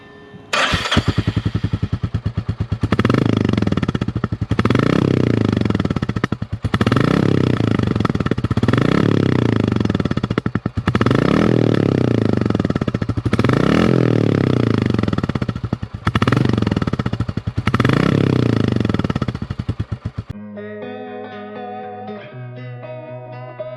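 A Royal Enfield Classic 350 Reborn motorcycle exhaust, loud and close, revs repeatedly in about eight rising and falling bursts over a steady idle, then cuts to music at the end.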